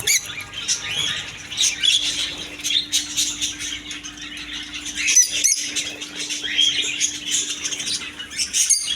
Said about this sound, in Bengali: এদিকে আছে লাভবাট পাখি লাভবাট পাখি